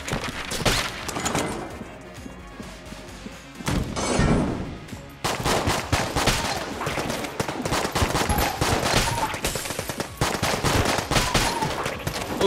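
Dense, rapid gunfire and bullet impacts from the video game Enter the Gungeon rattle nonstop for several seconds, with a brief lull before the loud barrage resumes, sharp shots and crunching breaks layered over game music.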